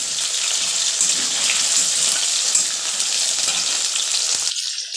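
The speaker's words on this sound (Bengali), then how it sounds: "তারপরে আলু দিয়ে ভালো করে আলুটা লাল লাল করে ভেজে নিতে হবে।" Potatoes frying in a pan until reddish, after cumin and chopped tomato, a loud, steady hiss and sizzle close up that runs without pause and cuts off abruptly at the end.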